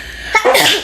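A single sharp sneeze, close and fairly loud, with a quick intake of breath before the burst.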